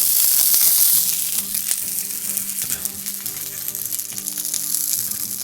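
Eggs fry under an upturned bowl on a flattop griddle, a loud, continuous close sizzle with faint crackling and no talk.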